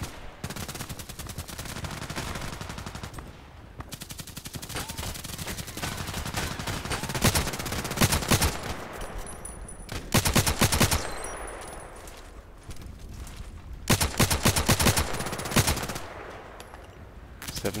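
Video game gunfire in Contract Wars: loud rapid bursts of automatic fire and single shots in clusters, with short pauses between volleys and a steady background rumble, no speech.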